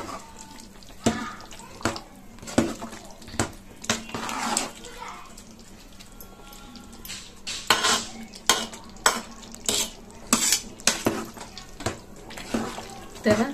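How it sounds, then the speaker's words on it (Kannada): Chicken biryani stirred in a pot, a spoon scraping and clattering against the metal in repeated strokes at close range, with wet mixing sounds throughout. "ಈ ತರ ನೀಟಾಗಿ ಮಿಕ್ಸ್ ಮಾಡಿ"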